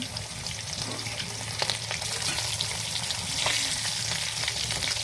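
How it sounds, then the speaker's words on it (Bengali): Rohu fish pieces fry in plenty of hot oil in a wok, a close continuous sizzle with crackling spatters and occasional light stirring sounds throughout. "আমি এই তেলের মধ্যেই মাছ দিয়ে ভেজে নিচ্ছি"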